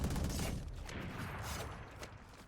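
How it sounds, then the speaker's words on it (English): Distant gunfire from a Valorant match, with dense crackling bursts spread steadily across the whole stretch at a moderate level, with no voices over it. "You hear the gunfire going out here around the sides"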